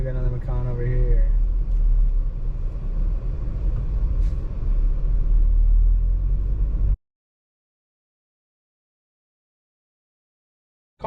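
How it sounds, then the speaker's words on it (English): A 2022 Porsche Macan base model rolls through traffic, its engine and tyre rumble a low, steady drone from the cabin before cutting to silence. "Car handles traffic quite well."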